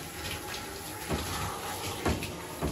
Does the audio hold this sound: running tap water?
yes